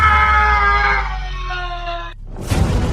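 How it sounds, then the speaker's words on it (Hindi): A dacoit's loud scream in a Hindi horror audio drama rings out as one strained, sustained cry of about two seconds, then cuts off sharply and gives way to a burst of noise. "तभी डकैत की जोर से चीखने की आवाज आई।"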